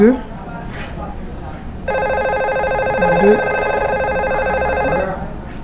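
A telephone rings with a steady electronic trill that starts partway through and sustains for several seconds, loud and close, while a person speaks French before and over the start of the ring.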